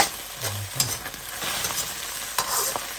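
Egg fries in a pan while being stirred, a close, steady sizzle broken by scraping and clinking of a utensil against the pan at irregular moments, with no voices.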